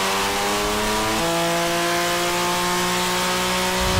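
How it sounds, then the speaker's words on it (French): BMW M4 fitted with a full Armytrix exhaust system, running on a dyno: a loud, sustained engine drone holding steady harmonics that step up in pitch partway through, continuous and close with no talking. "ma M4 que j'avais mis la ligne complète Armitrix, ça faisait beaucoup trop de bruit"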